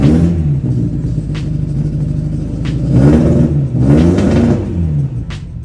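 Datsun car engine running, a deep steady idle rumble close by that surges twice into louder revs before settling back down.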